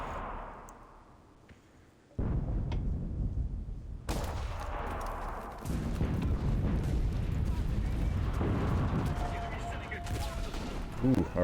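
A submachine gun squad in the World War II game Enlisted opens up in dense, continuous bursts of gunfire, with booming impacts and a louder crack partway through, mixed with voices.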